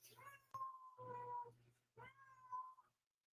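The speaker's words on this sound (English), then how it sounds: "You can probably hear our cat." A house cat meows insistently for attention indoors, three drawn-out, fairly close cries with short pauses between them, against a low steady hum.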